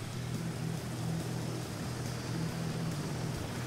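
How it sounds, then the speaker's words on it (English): A helicopter departs in a Carrier Deck aircraft-carrier video game, with a steady, throbbing rotor drone and low pulsing chop held at an even level throughout. "I'm going to queue one of our choppers for a submarine mission"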